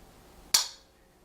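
Magnetic drain plugs snapping onto the outside of an oil filter, a single sharp metallic click close up, brief and alone against quiet background.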